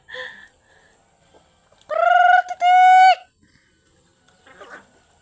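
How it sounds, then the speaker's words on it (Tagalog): A chicken on a farm lets out a loud, drawn-out squawking call in two bursts, with softer clucks and faint bird sounds around it. "Marami kaming manok"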